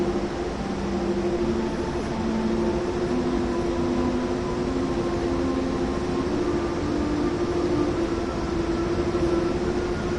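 A train rolling along in Train Sim World 3, a steady droning rumble with sustained humming motor tones that shift slowly in pitch, continuous and fairly loud throughout.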